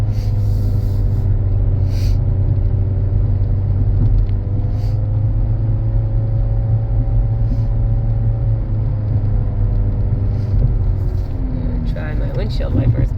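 A 2010 Nissan Altima climbs a hill with a steady low engine and road rumble heard from inside the cabin, while a person talks over it throughout.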